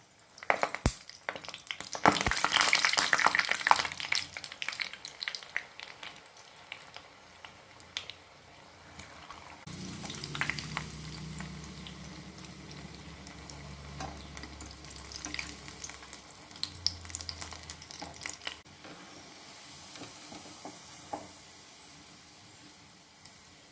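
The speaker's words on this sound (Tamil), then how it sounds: "மீடியம் ஃப்ளேம்லேயே வச்சு இதை ஃப்ரை பண்ணிவிடுங்க." A small flour and sugar snack fries in oil in a pan over a medium flame, a soft continuous sizzle that swells and fades, with clattering and handling noises early on and no talk.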